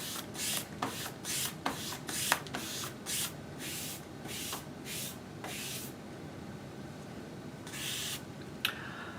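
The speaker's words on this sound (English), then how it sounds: "We're now going to lay our film over the tape. And we're going to squeegee that down." A squeegee rubs vinyl wrap film down over knifeless tape on a vehicle in repeated short, soft swipes, a rhythmic series of scraping strokes at close range with brief pauses between them.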